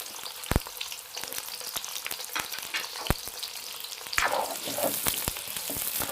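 Sliced onions fry in hot oil in a kadai, a steady soft sizzle with sharp crackles and pops and a brief surge of stirring midway, close and without talk.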